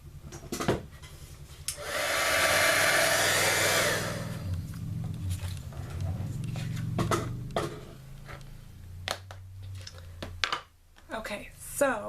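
A heat tool blows a steady, loud whirring hiss for about two seconds while warming an embossed card front, then gives way to low talking and small handling clicks and taps.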